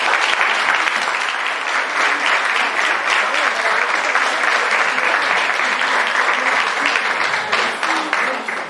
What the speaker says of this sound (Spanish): Creo que esto merece un gran aplauso